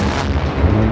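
An A-10 Warthog cannon firing at about 70 rounds per second, heard as a loud, continuous, low, buzzing roar with no break, as in a war documentary sound effect.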